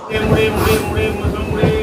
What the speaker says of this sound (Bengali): এই সবে লোকাল ট্রেন ছাড়লো